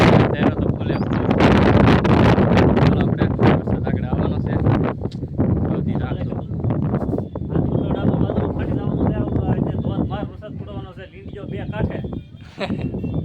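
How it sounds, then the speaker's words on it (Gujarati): Strong gusts roar and buffet the microphone under dark clouds just before rain, loud and blustery with rustling, while people talk over it. "પવનની વાવળી કહેવાય અને વરસાદ આવવાનું છે."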